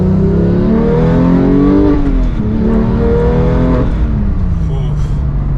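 Porsche 991.2 911 GT3 with six-speed manual revs hard, its loud exhaust rising and falling in pitch through repeated throttle blips, close by with a person speaking over it.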